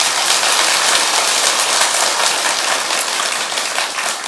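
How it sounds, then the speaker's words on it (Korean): Sustained, dense applause from a large temple audience at a Buddhist Dharma talk, a loud continuous wash of clapping that fades slightly toward the end, with no voices over it. "박수 한번 쳐주십시오."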